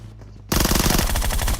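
Video game gunfire in a Groza versus Uzi firefight: after a brief quiet start, a loud rapid automatic burst rattles continuously for about a second, close and with no talking.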